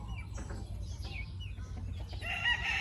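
Farm chickens and young chicks clucking and crowing close by, repeated short calls over a steady low background hum, with no talking.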